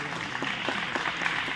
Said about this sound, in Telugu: ఒకసారి గట్టిగా చప్పట్లతో వారికి